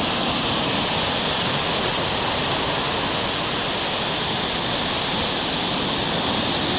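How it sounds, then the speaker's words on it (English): Kezar Falls river in Maine rushing in strong flow, a dense, loud, unbroken roar of water close by, with no speech over it. "The river's got quite a flow to it today."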